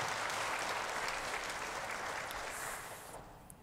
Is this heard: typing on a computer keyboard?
no